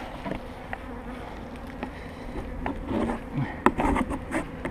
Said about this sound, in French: on va remettre les abeilles dans la ruche